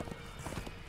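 Horse hooves clip-clop in quick, close steps in Darksiders II, a brief run of sharp repeated knocks with no other sounds.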